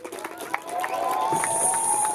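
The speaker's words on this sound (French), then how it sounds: "On commence par un maximum d'applaudissements pour Joey et Maxime" An audience at a space conference applauds Joey and Maxime of the Spacefox team, a short burst of cheering and clapping crowd noise with a rising roar.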